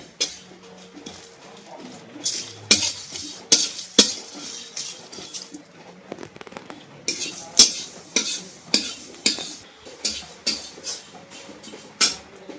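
Whole spices fry in a pan for ghugni while a spoon stirs them, scraping and clinking against the metal in a steady repeated rhythm with no talking.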